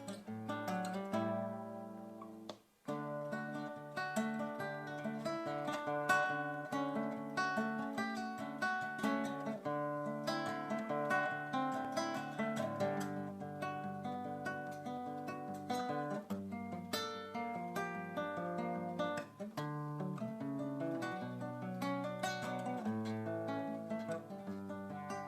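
Instrumental performance of a song played as a tutorial demonstration: a continuous melodic piece with clear sustained notes and chords, one brief pause near the start, then flowing on to the end.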